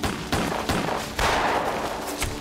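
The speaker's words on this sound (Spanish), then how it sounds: "y se intercambiaron disparos." A gunfire sound effect plays out as an exchange of shots, several sharp reports spaced irregularly, loud and close.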